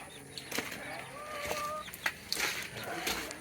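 Rhode Island Red chickens cluck softly and a rooster-like call rises briefly, with some wing flapping and rustling close by, scattered short sounds over a quiet background after a typhoon.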